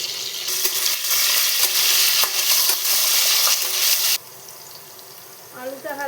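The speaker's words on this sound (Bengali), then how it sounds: "আলুটা হালকা ভাজা হয়ে গেছে" Cut potatoes frying in hot oil with five-spice in a pan, a loud steady sizzle for about four seconds that drops abruptly to a faint simmer as a voice begins speaking.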